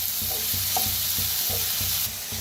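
Chopped onion frying and sizzling in a pan, a steady close crackle with rhythmic scraping as it is stirred, no talk.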